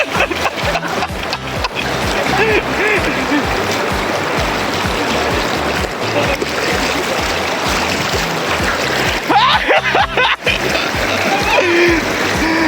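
Loud, continuous rushing water of a strong river current in Peñaranda, Nueva Ecija, churning and splashing steadily up close, with occasional faint voices beneath.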